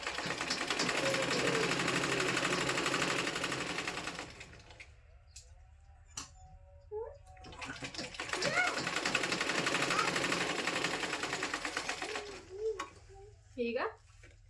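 A sewing machine runs in two long, steady stitching bursts, its fast mechanical rattle filling the room, with a pause between where someone talks and handles fabric.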